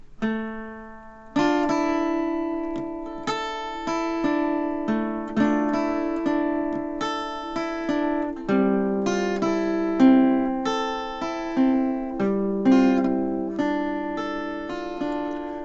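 A single guitar slowly plays the intro of a song, a plucked melody with notes ringing out one after another, gentle decays and short pauses between phrases.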